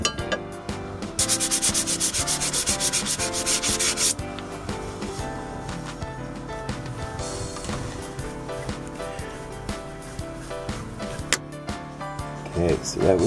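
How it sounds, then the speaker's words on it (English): Continuous rhythmic rasping of sandpaper rubbed back and forth on a wood-turned wooden wand, loud and close, with a harsher burst early on and the strokes going on steadily. "we'll go to do a little sanding"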